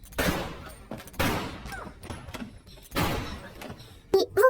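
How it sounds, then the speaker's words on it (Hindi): Gunfire in a dramatic action scene from the 2007 film The Invasion: several sharp, loud bursts of shots spaced apart with echoing tails, followed by a couple of quick closer blasts at the end. "तब कैरल उन पर गोलियां चलाकर सभी को मार डालती है"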